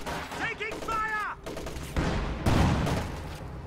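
Video game battle with bursts of gunfire and artillery, sharp cracking shots clustered in quick volleys, mixed with whistling and tonal game effects, fairly loud throughout.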